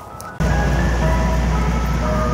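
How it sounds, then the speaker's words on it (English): An ice cream truck passes by on a residential street, its chiming jingle melody sounding steadily alongside a low engine rumble that starts abruptly and holds at a fairly loud level throughout. "There goes the ice cream truck."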